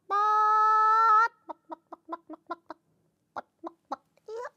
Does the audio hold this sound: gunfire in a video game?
no